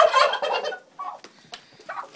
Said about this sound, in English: chickens and the turkeys.